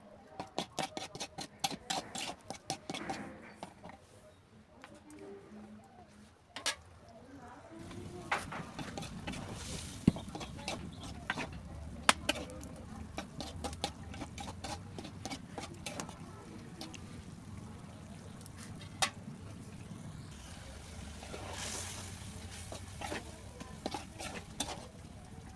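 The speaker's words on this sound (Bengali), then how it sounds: "এখন দিয়ে দিব ধনিয়ার পাতা দিয়ে মাছটা একটু নাড়াচাড়া করে নিব" Tengra fish is stirred in a pan with coriander leaves. A spatula scrapes and clicks lightly in an irregular rhythm over a soft, steady sizzle, all fairly quiet and close.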